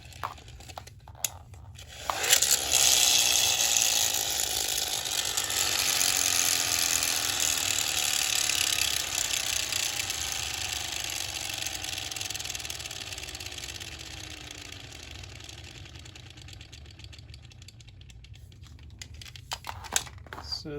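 A ripcord is yanked through a Kenner SSP toy's flywheel wheel, setting off a loud, steady whir that slowly fades over about eighteen seconds, with faint clicks at the start and end.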